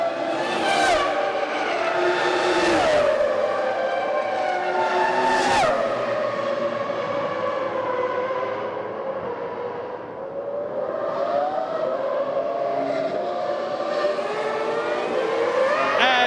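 Ferrari Formula One cars race at the Grand Prix of Canada circuit in Montreal in 2000, their high-pitched engines whining loud and near as they pass, with rising and falling revs and a few sharp passing surges.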